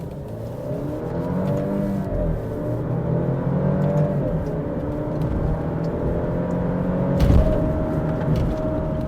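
An Alfa Romeo Giulia accelerates hard in manual mode on a hot day, its engine note rising through the revs with a shift dip partway and a brief loud thump near the end, heard from inside the car.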